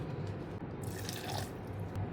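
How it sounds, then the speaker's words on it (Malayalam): Water poured into a wet grinder holding a half batch of soaked ragi (finger millet) for a breakfast batter, a steady close splashing trickle running throughout with no talk. "പകുതി ഇട്ട് കുറച്ച് വെള്ളം കൂടെ ഒഴിച്ചു കൊടുക്കുകയാണ്."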